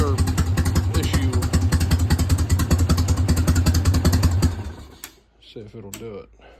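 A 1988 Harley-Davidson Softail motorcycle with a faulty starter cranks in a steady rapid chugging rhythm for about four and a half seconds, then cuts off, followed by someone speaking close by.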